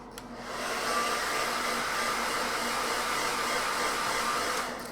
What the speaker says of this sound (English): Set this lightly with a hairdryer.